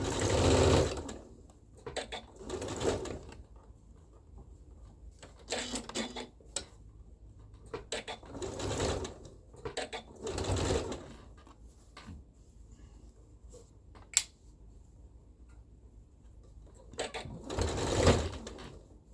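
Sewing machine running in repeated short bursts while stitching gathered ruffles onto a dress bodice, pausing between runs for pin removal and gathering adjustments; close and steady with faint handling clicks between bursts.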